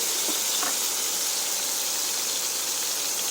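Chopped tomatoes fry with nigella seeds in a pan, producing a continuous hissing sizzle that stays close and even for a few seconds, with no speech.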